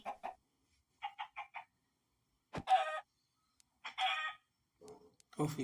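A chicken clucks in short bursts: a quick run of clipped calls, then longer, louder squawks with pauses between, close by.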